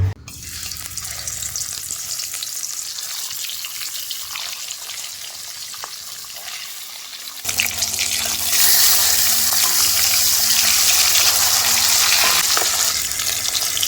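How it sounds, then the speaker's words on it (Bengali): Pomfret fish frying in hot mustard oil in a wok, a steady loud sizzle that jumps sharply louder midway as the fish hits the oil, then a dense continuous crackle with no talking. "তেল খুব ভালোভাবেই গরম করে নিয়েছি, মাছ ভেজে নেব"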